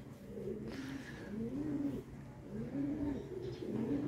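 Racing pigeons, including hens pairing up, cooing in a loft, soft repeated throaty coos rising and falling in a slow rhythm, fairly close but quiet against a low background hum.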